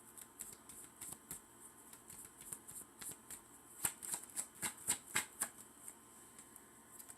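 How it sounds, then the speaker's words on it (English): A tarot deck is shuffled and a card drawn, a quick run of crisp papery flicks and snaps that grows denser toward the middle, close and fairly quiet with no talking. "So let's pull our last card."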